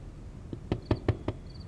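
Someone knocks on a door: five sharp raps in an uneven run after a faint first tap, close and fairly loud, with no voices over them.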